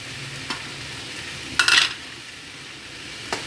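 Shredded egg kothu parotta stir-fried with masala on a low flame, heard as a steady background sizzle broken by a short burst of metal spatula scraping and clanging against the pan, then a couple of lighter taps.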